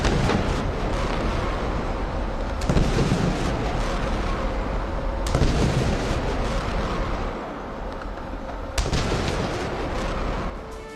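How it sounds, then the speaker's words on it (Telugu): Explosions boom along the Vizag shore during a naval fleet review war exercise with warships and fighter jets, a dense continuous roar punctuated by several heavy blasts at intervals, loud and close throughout. "తీరంలో బాంబుల మోత."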